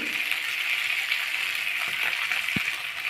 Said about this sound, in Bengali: নুন হলুদটা দেওয়ার পর আবারও ভালোভাবে ভেজে নেওয়া হচ্ছে